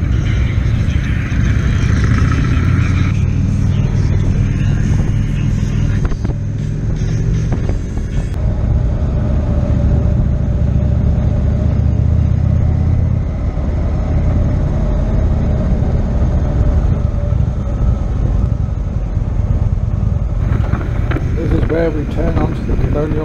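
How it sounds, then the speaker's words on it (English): Road noise during a motorcycle group ride, with engines rumbling and wind buffeting close to the microphone as cars pass by on the road, a continuous loud mix with a voice talking over it. "Waiting for the cars to go past so we can get a clear run of it"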